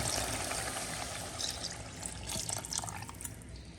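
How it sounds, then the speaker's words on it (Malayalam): Water pours steadily into a cooking pot for fish curry, a continuous splashing rush with a bright, trickling edge, close and fairly loud throughout. "ഇതിലേക്ക് നമുക്ക് ആവശ്യത്തിന് വെള്ളം ചേർത്ത് കൊടുക്കാം"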